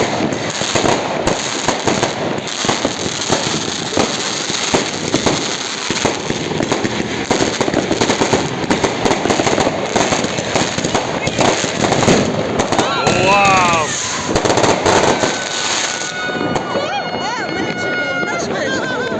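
New Year fireworks salute bursting continuously in a dense, loud crackling barrage close by, with a crowd chattering and a whistling rocket toward the end.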